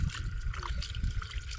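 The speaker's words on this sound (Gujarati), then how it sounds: "તો અંદર થોડું પાણી આવવા દઉં।" Water trickles and splashes into a pesticide sprayer tank while fertilizer spray is mixed for a potato field, a steady close pouring with a light bubbling gurgle.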